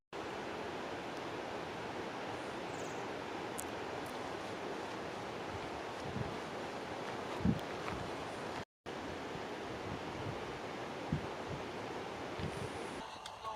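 A waterfall in Rocky Mountain National Park roars as a steady, broadband rush of falling water, constant and fairly loud, with a brief dropout midway and faint handling bumps.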